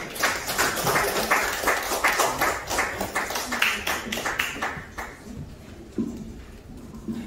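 An audience at an indoor debate forum claps to welcome a speaker to the stage, brisk rhythmic applause that fades after about five seconds, followed by a few scattered claps.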